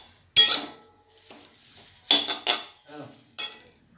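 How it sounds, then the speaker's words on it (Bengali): Stemmed curry leaves dry-roasted in a pan with no oil, home-grown leaves for a chira fry: sharp scraping and rustling bursts from stirring, a few loud clatters against the pan with quieter shuffling between, close and alone. "কারি পাতাগুলো এইভাবে ডান্ডা সমেতই ভাজবেন, শুকনো কলায়, তেল টেল কিচ্ছু না।"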